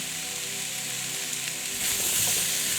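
Mixed vegetable curry with tomato sizzles in a pan as it is stirred, a steady close frying hiss that grows louder and brighter partway through as the spatula scrapes and turns the vegetables.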